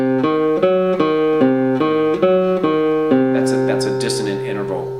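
Diminished triad on guitar, a loud, clear, rhythmic pattern of plucked notes that repeats several times and ends with the notes ringing together and fading, close and alone.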